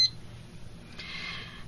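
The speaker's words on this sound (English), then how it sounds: "Now it's going to verify with 2 beeps the speaker." A Philips ForeRunner FR1 defibrillator sounds its speaker test beeps: a short electronic chirp, then a longer, steady tone, both fairly faint and clear in a quiet room.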